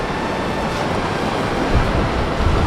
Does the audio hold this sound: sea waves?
yes